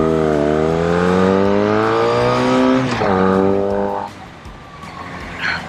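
The engine of a 40-year-old Honda Magna motorcycle revs hard and loud, climbing and falling in pitch through several surges. It then drops back to a quieter, rough idle.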